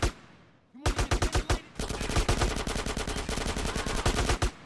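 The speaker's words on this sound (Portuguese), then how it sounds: "O tiroteio tá rolando ali atrás." Gunfire shootout in GTA San Andreas Remastered on Grove Street: a short burst of rapid shots, a brief pause, then a long, dense, loud stream of automatic fire and crackling shots.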